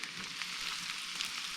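Cabbage fries in a hot pan with a steady, close, even sizzle and crackle that runs unbroken for the whole stretch, with no voices over it.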